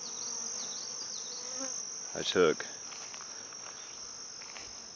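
A weak honeybee colony, down to a queen and a small handful of bees, hums with a steady insect buzz near a hive, a brief burst of speech cutting in partway through.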